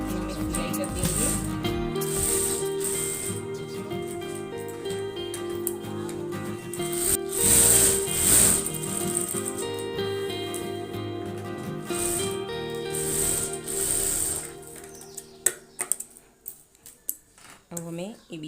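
A sewing machine stitches baby frock fabric, a steady mechanical whirring hum with rhythmic needle clatter that runs continuously before stopping near the end, followed by a few sharp clicks and handling sounds.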